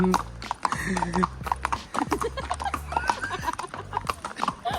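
Horse in the hill town of Matheran with a rider aboard, hooves clip-clopping in a steady close walking rhythm throughout, with people talking over it.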